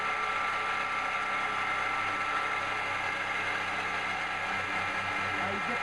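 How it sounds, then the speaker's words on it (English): A hand-cranked drill bit cutting into steel while fabricating wings for a hydraulic log splitter, giving a steady close grinding, ratcheting whir that runs continuously and evenly without pauses. "Now you can hear the bit start to cut. And we crank enough to feed."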